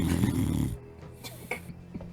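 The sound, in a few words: voice imitating snoring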